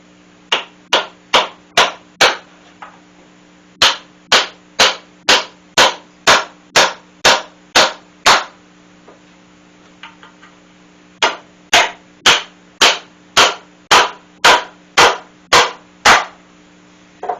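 Wooden drawbore pegs are driven into mortise and tenon joints with sharp, loud hammer blows. They fall in two fast, evenly spaced runs of about a dozen strikes each, with a short pause between, close by and with no talk.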